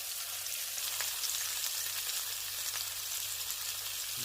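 Steak fat rendering in a hot pan gives a steady, even sizzle and crackle that runs the whole time, close and fairly quiet, with no voices over it.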